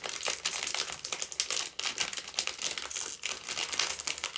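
Plastic packaging opened by hand, with close, loud crinkling and crackling in rapid irregular bursts, plus brief tearing and crushing textures and small pauses between handfuls, no speech.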